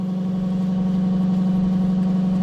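Yamaha TW200 motorcycle engine running steadily with a hum and a low, even drone, close and continuous, no voices, while the bike is ridden on a tire patched with sealant.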